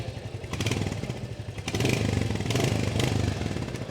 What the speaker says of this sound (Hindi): एक बार सुनाई देता हूँ भाई मैं आपको एग्जॉस्ट साउंड